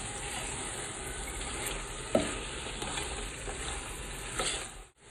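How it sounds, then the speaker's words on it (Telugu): Chicken pieces frying in masala for a Dindigul thalappakatti biryani, a quiet steady sizzle with occasional scraping stirs and a sharp utensil knock, no voices. "మసాలా అంతా ముక్కకి బాగా పట్టే విధంగా బాగా కలుపుకుంటూ ఫ్రై చేసేసుకోవాలి."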